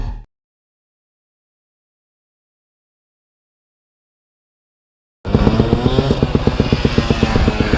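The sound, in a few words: dirt bikes riding and revving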